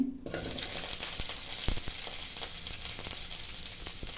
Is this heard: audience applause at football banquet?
no